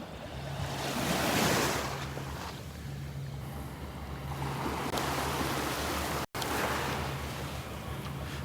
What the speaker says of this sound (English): I got to keep moving down the beach